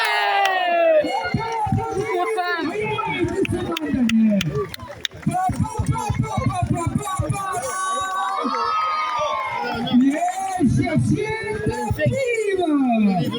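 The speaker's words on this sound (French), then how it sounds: "Allez, le public, on va l'encourager, on va l'applaudir." A crowd cheers, shouts and claps at a toro piscine bull event held by Manade de la Cau in Tresques. The sound is loud and continuous, with excited voices and children shouting throughout.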